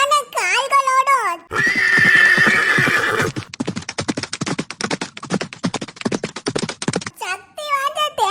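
Horse neighing in a Tamil cartoon, a loud whinny at the start and again at the end, with a burst of galloping clip-clop hoofbeats in between.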